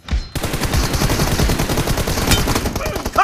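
M4 rifle fire in the mobile shooter BGMI during a team deathmatch, rapid automatic bursts crackling loud and close almost without pause, with faint game voices underneath.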